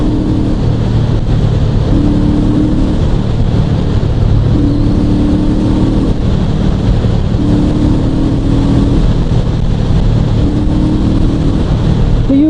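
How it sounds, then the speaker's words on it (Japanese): Honda CL500 motorcycle cruising at highway speed as the throttle is repeatedly opened and closed, its engine drone rising and falling in repeated swells beneath heavy, constant wind roar. "ちょっと加速していますね。 開け閉めしています、アクセルの。"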